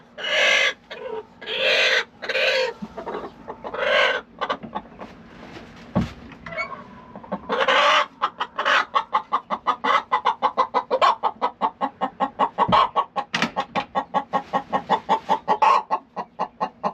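A hen nudged off her nest box clucks loudly at close range, first in a few drawn-out squawks, then in a long steady run of rapid, rhythmic clucks.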